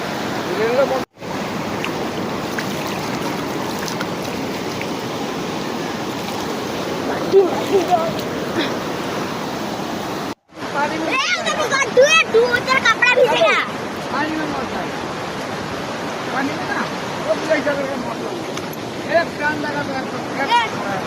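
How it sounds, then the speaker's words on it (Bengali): A river in strong flood after heavy rain, its current roaring in a continuous loud rush with wind buffeting the microphone. Voices speak intermittently over it, and the sound cuts out briefly twice. "নিচে নামিস না, পানির স্রোত দেখছিস, প্রচুর পানির স্রোত"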